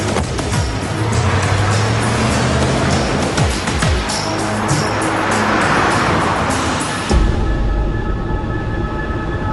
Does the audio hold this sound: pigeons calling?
no